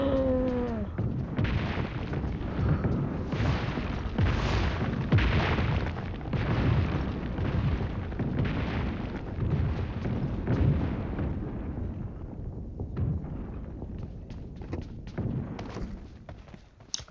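Distant gunfire in PUBG Mobile: rumbling booms and muffled shots roll on continuously, sounding distant and heavy, with a few sharper cracks toward the end.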